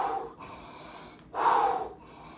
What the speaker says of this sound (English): The deep breath.